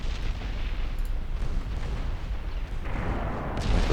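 Heavy battleship main guns firing armor-piercing shells in the naval strategy game Ultimate Admiral Dreadnoughts, a dense, continuous rumble of deep booms and distant explosions swelling louder toward the end, with no voices.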